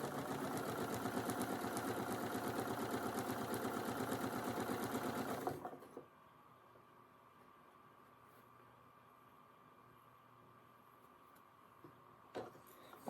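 A sewing machine fitted with a quarter-inch foot stitches quilt fabric in a steady, fast mechanical run for about five seconds, then stops, leaving a quiet room with a faint click near the end.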